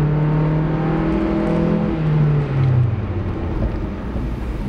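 A 1.6 litre automatic Hyundai Getz revving hard toward about 6,000 rpm, its engine note rising steadily and then dropping as the gearbox shifts up, loud and close from inside the car, with no voices.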